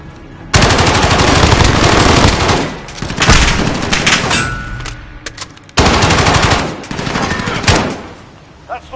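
Gunfire fills a video game gunfight in two long, loud bursts of rapid automatic shots, each rattling steadily for several seconds before a brief lull, close and dominant.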